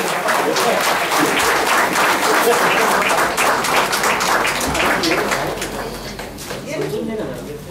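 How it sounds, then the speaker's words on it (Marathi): Audience at an anniversary ceremony breaking into sustained, dense applause, loud and continuous, slowly tapering toward the end. "टाळ्यांचा कडकडाट व्हायला पाहिजे."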